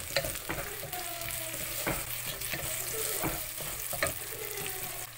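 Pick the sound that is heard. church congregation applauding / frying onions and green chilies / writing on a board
frying onions and green chilies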